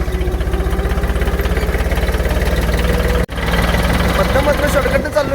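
A tractor engine running steadily on a farm road, a loud, close, rhythmic low chugging that cuts out for a split second and then carries on, with a voice talking over it.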